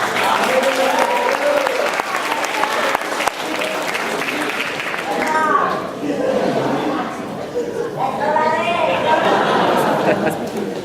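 Applause and crowd chatter fill a hall at a high school soccer team banquet, clapping sustained throughout with voices and some laughter mixed in after a sophomore player is introduced.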